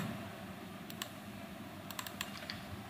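Keys on a computer keyboard click in short bursts while data is entered into a form, a few sparse taps and then a quick cluster, close and fairly light over a low steady room hum.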